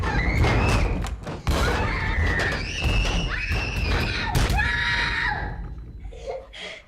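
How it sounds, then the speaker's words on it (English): Shrill, sustained screaming in a haunted-house drama, loud and close, rising and falling in long wails over a dense, noisy background. "what's with the screaming?"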